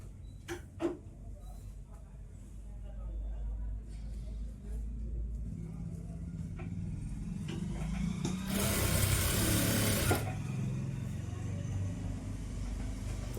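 An electric sewing machine stitching a Punjabi top runs in a steady low whir that swells louder for a stretch midway, with a few small clicks from the needle and presser foot around it.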